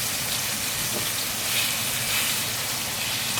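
A rib of beef sears on a hot cooking plate at high heat, giving a steady, dense sizzle that crackles evenly throughout and hisses close by with no talk over it.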